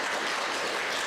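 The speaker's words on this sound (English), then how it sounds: "because we're going to clap for you" An audience applauds caregivers who raised children, a dense, steady wash of clapping filling the short moment at moderate volume.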